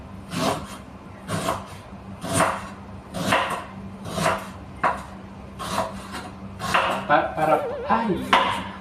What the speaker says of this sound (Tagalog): Hiwain ko muna para ready talaga.